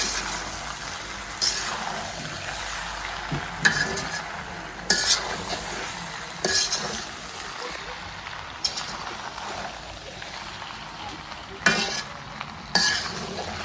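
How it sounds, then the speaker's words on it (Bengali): Chicken pasta with pasta spices is stirred in a pan with a soft sizzle and periodic spatula clanks and scrapes against the metal, spaced a second or two apart. "এখন পাস্তার সাথে মশলাগুলো খুব ভালোভাবে মিশিয়ে নিব।"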